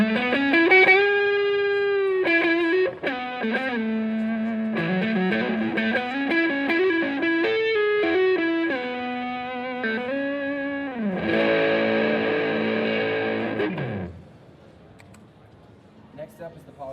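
Electric guitar played through a Pigtronix Aria overdrive pedal, a loud, clean-sustaining singing lead line with bends and held notes, closing on a long vibrato-laden note that cuts off and fades.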